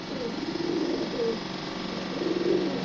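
Low, throaty pigeon cooing rolls on in soft repeated phrases over a steady background hum.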